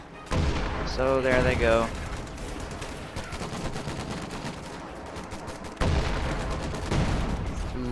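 Rifle fire from BAR riflemen rattles in a WWII strategy video game, sharp bursts of shots under a commentator talking, louder at the start and again near the end.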